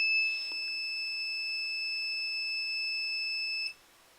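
An industrial pressure monitor alarm sounds a steady, shrill electronic tone held continuously for several seconds at moderate volume, then cuts off abruptly.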